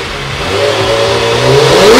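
A Kawasaki sport bike engine, just cold-started, revs steadily and climbs in pitch over two seconds, loud and close with a rough idle-to-rev character and no talking.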